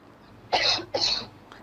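A patient gives two short, sharp coughs close to the microphone, each a single harsh burst with a brief pause between, otherwise quiet.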